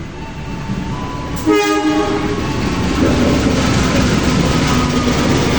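An Indonesian Kahuripan passenger train hauled by CC 201 locomotive 89 16 sounds a long, loud multi-tone horn, followed by the steady rumble of rolling carriages heard up close.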